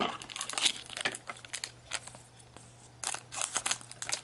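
Crisp crinkling and snipping of scissors cutting through a foil Pokémon Emerald-era card pack, in several bursts with quieter handling between, close up.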